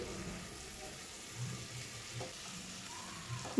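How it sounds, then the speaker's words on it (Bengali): Chopped ridge gourd and vegetables fry in a pan, giving a faint, steady sizzle with occasional soft stirring scrapes, heard close and low. "এরপর সবগুলোকে চিচিঙ্গার সাথে খুব ভালোভাবে ভেজে নিতে হবে।"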